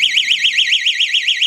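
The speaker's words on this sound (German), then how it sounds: "wenn jetzt das Wasser wieder überläuft, dann geht ein riesen Alarm los hier im Haus" Water leak detector alarm in a house, triggered by a few drops of water: a loud, continuous warbling electronic siren that rises and falls rapidly and steadily, very close and alone.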